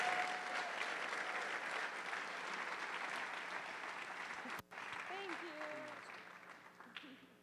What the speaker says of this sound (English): A big round of applause for our Timber Creek Super Scholars.